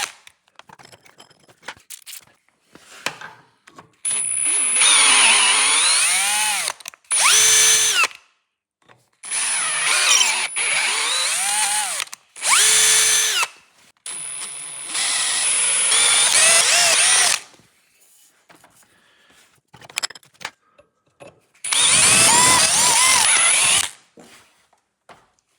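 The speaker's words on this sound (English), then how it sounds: "I'm power tapping because this is a through and through" A power drill power-taps threads through holes drilled for mounting an aluminum part during a car dashboard install. Bursts of close whining motor run several seconds each, separated by pauses with small clicks and handling noises.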